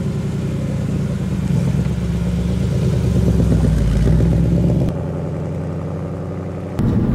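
A Ford Mustang Bullitt's engine droning steadily while driving on country back roads, a loud continuous low rumble that swells slightly, then drops in level near the end before rising again.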